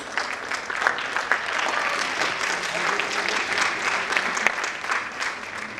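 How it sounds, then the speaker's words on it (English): Audience applause at an award ceremony fills the hall with steady, dense clapping from a large crowd, sustained and fairly loud throughout with no voices on top. "let's have a huge round of applause"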